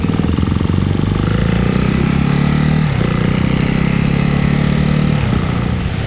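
Ducati Hypermotard motorcycle engine running steadily up close, a loud continuous mid-low rumble with brief dips in pitch as the revs shift, no talk over it.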